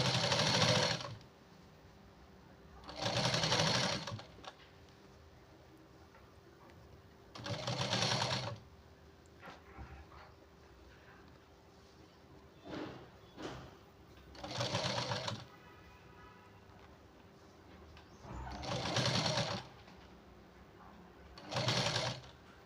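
A domestic sewing machine stitches a blouse in six clear bursts of rapid mechanical whirring, each lasting one to two seconds and separated by quieter pauses with faint handling noises.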